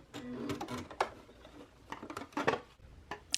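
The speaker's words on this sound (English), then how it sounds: "I'm just going to sew right along the edge" A sewing machine stitches along the edge of a fabric scrunchie in short, uneven bursts of whirring needle chatter, close and fairly quiet, with brief pauses between runs.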